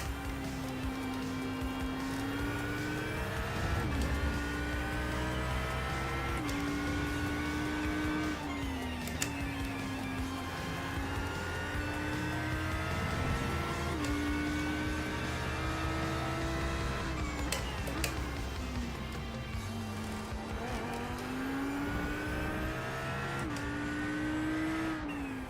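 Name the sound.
race car engines in iRacing video game, Porsche behind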